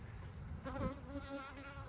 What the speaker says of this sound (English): we got quite a few bees up here